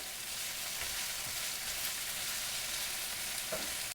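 Vegetables mixed with chili crisp fry in a pan for a veggie omelette, a loud, dense, steady sizzle with faint stirring scrapes, close up and uninterrupted, no voices.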